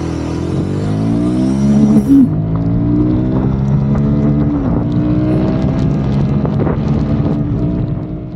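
A Royal Enfield Guerrilla 450 motorcycle accelerates hard from standstill toward 100, its engine note rising and dropping through several gear changes, loud and close with steady wind rush over the microphone.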